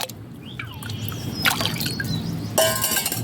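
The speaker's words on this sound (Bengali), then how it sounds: "প্রথমে আমি দিয়ে দিচ্ছি ভাতের মাড়" Rice starch water for a homemade liquid plant fertiliser is poured, with thin trickling and dripping, then a fuller splashing pour near the end.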